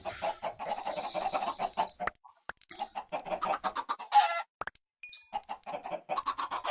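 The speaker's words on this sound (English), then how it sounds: "let me go slaughter a chicken and get another feather" Minecraft chickens with the Thaumcraft mod cluck in quick repeated bursts, fairly close and clear, broken by short silences and brief game interface blips.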